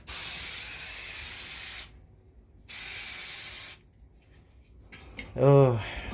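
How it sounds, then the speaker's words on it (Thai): A can of deodorizer spray hisses in two long, loud bursts, the first nearly two seconds and the second about one, in an abandoned hotel in Pattaya; a brief voice follows. "สเปรย์ดับกลิ่นแม่บ้านเขาเอาไว้นะ"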